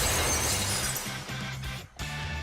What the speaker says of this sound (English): A sharp sound like glass shattering rings through the air